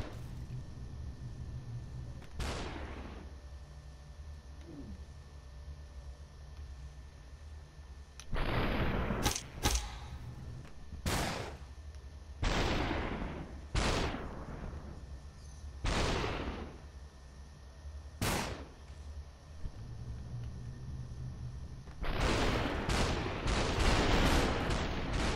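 Several loud, sharp gunshots in a video game, fired singly and in quick bursts, with a steady electronic hum beneath and a denser flurry of shots at the end.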